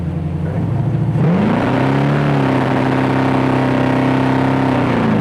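A 1969 Camaro RS/SS restomod's V8 pulls hard in a roll-on, the engine note rising steadily and holding strong from inside the car, loud and continuous with road noise beneath.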